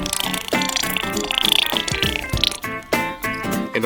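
Worcestershire sauce and other liquid ingredients pour into a marinade bowl close by, a splashing, gurgling fill with clinks of the bowl and utensils and brief pauses between pours.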